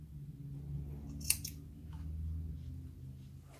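Scissors snip knitting yarn after a small knot is tied, a single short, quiet cut heard close against a low background hum.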